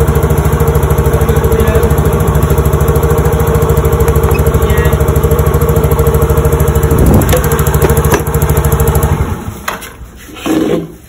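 A Yamaha Mio J motorcycle with a dirty throttle body and ISC passage, idling high on its own with a steady, loud pulsing engine drone, then dropping off near the end with a brief burst of revving.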